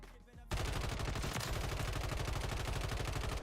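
Call of Duty gunfire, a loud sustained burst of rapid automatic shots in an even rhythm that starts abruptly after a brief quiet moment and carries on without pause.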